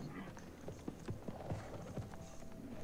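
Horse hooves clopping in the Gears of War 4 video game, a steady run of close, distinct hoof strikes over a low game ambience, with no talk.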